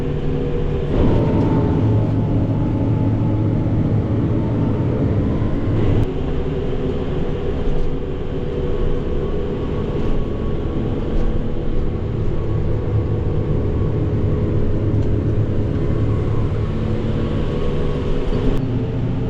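A forage chopper's engine drones continuously at close range while harvesting in a field, a loud steady rumble with mechanical whine and no pauses throughout.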